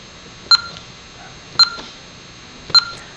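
A Vista 20p alarm keypad gives three short, sharp electronic beeps about a second apart as a programming exit code is keyed in, each clear and close against a quiet background.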